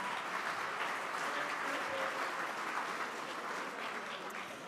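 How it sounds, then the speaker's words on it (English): Applause from a meeting audience fills the room as a dense, continuous patter of clapping at moderate volume, holding steady before easing off slightly at the close. "let's give him another round of applause"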